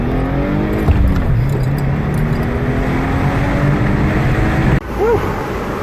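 Engine of a 2017 Subaru WRX rises in pitch as the car launches from a stop and accelerates hard, loud and close from inside the cabin, with a brief gear shift dip near the end.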